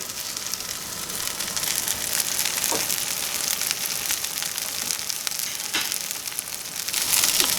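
Hemp seed encrusted ahi tuna steaks sear in hot oil, giving a steady, loud crackling sizzle with a few sharper pops, and no voices over it.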